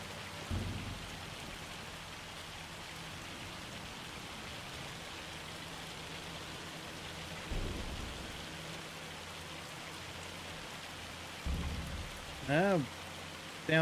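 Steady rain falls in the Farming Simulator 25 video game, with a few low thunder rumbles spread through the clip over the constant hiss of the downpour.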